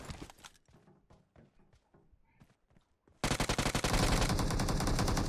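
Gunfire in the PUBG Mobile video game: scattered sharp shots at first, then a loud, rapid automatic burst that runs steadily to the end.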